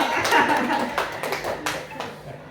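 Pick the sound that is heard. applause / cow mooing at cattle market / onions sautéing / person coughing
applause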